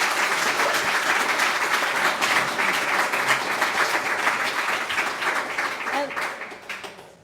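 An audience breaks into steady, loud applause for a female endurance cyclist who finished first woman and sixth overall in a race, continuing for several seconds and tapering off at the end, with a voice speaking briefly.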